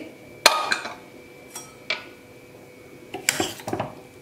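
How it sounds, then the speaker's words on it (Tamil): Metallic clicks and clanks as a pressure cooker lid is opened after cooking a vegetable kootu, a sharp rattle first followed by a few scattered knocks and a brief clatter near the end, close and fairly loud. "இப்போ ப்ரெஷர் எல்லாம் நல்லா போயிடுச்சு. திறந்து பார்க்கலாம்."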